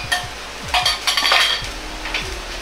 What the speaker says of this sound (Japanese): 先ほど合わせておいたタレを鍋に入れ一度加熱しておきます